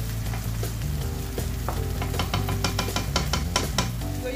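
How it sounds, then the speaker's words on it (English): Sauce stirred and frying in a pot for a local home-cooked sauce, with a steady sizzle under repeated scraping and clinking strokes of the spoon, close and fairly loud, no talk. "And then you stir it"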